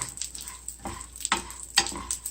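Mealworms crackle and sizzle frying in hot oil in a pan, with sharp crisp pops and a few stirring scrapes, close and fairly quiet.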